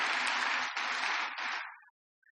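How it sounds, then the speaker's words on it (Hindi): Audience clapping at a spiritual gathering, a dense burst of applause lasting under two seconds, dipping twice before cutting off abruptly into silence. "ताली बजाइए।"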